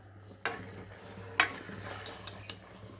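Mutton is stirred with salt and masala in a pan: three distinct scrapes and clinks of a spoon over a quiet, low background hum.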